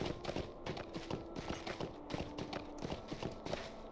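Rapid, even clip-clop of horse hooves in the video game Lord of the Rings Online beats steadily throughout, a brisk trotting rhythm with a faint mechanical hum underneath, no voices.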